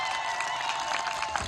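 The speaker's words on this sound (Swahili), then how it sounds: "Shangilia Yesu kwa makofi mengi sana kwanza." A church congregation claps during a Swahili sermon on living by faith in Christ, a steady wash of applause filling the hall at moderate, fairly distant level, without any talk over it.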